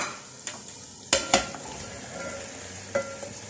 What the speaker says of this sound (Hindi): अब हम ऐसा करेंगे कि जो वेजिटेबल्स हमने फ्राई की थी वो वेजिटेबल्स इसमें सारी डाल देंगे।